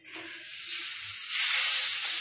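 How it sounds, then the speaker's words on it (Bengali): Chili powder hitting hot oil in a pan for a keema egg tarka, a steady close hiss and sizzle that swells louder partway through, with no talking. "তো তেলে একটু লঙ্কা গুঁড়ো দিচ্ছে"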